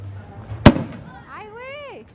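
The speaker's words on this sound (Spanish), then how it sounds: "Puros cohetes en todos lados." A single sharp, loud firework rocket bang at a Christmas celebration in Mexico, followed by a trailing whistle and a voice talking over the tail.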